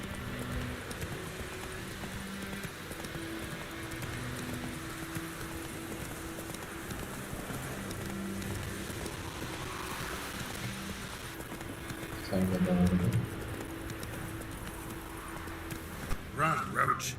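Horse hooves clip-clopping at a steady run in The Witcher 3: Wild Hunt, a continuous rhythmic patter under game ambience, with a brief louder burst near the end.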